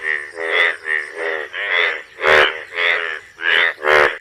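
A frog croaks about eight times in a steady, evenly spaced series of loud, close, throaty calls with short pauses between them.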